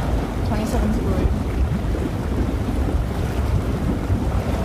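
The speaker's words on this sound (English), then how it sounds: "It is a bit windy, which is nice." Outdoor wind buffets the microphone in a constant low rumble on the Gold Coast, with water and waves suggested in the background and muffled speech mixed under the gusts.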